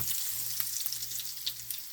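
A hoe cake, a savory pan bread like a pancake, sizzles and fries steadily in a pan, with a constant crackling hiss close by and no voices.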